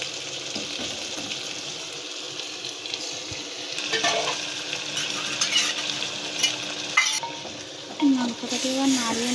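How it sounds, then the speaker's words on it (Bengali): Marinated meat, coated in ground spice, ginger-garlic paste and mustard oil, being stirred in a pot: steady scraping and clinking of a utensil against the pot with a light sizzle underneath, a few sharper knocks near the end. "মাংসটাকে এবার নাড়িয়ে নেব আমরা। দেখো, একটু হাঁড়িটাকে ধরতে হবে, ধরে ভালো করে নাড়িয়ে নিতে হবে।"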